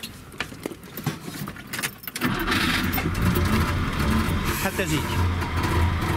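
A 1988 Wartburg's two-stroke engine cranks and fires, then settles into a loud, steady, buzzing idle close by in a retro museum, with people talking over it.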